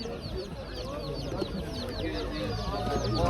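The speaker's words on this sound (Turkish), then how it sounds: "Bu abimiz de böyle güvercin getirmiş herhalde." Pigeons kept in a small box at a chicken and chick market coo and flutter, soft bird calls mixed with clucking poultry nearby, while people talk over the busy market noise.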